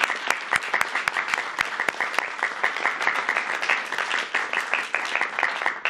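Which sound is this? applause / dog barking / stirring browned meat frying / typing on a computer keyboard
applause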